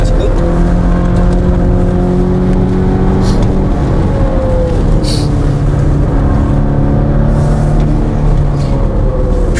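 Volvo V60 Cross Country wagon engine revving hard near 6,000 rpm, a loud continuous harsh drone with rising and falling pitch heard from inside the car, with a few short noises over it.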